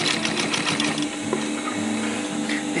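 A sewing machine runs steadily as it stitches canvas for a roll-up bag, a continuous close mechanical whir that holds even and alone for about three seconds.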